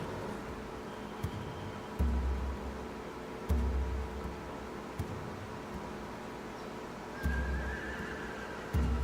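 Horses neigh and whinny in The Walking Dead video game, with heavy low thuds recurring every second or two under a faint background hiss.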